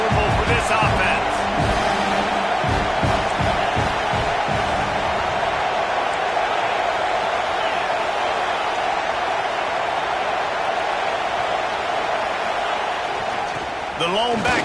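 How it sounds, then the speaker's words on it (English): A steady, dense roar from the stadium crowd at the Oregon at Auburn football game fills the whole stretch, with a commentator talking over it. "This crowd trying to make life miserable for this offense."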